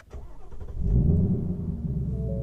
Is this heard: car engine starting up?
yes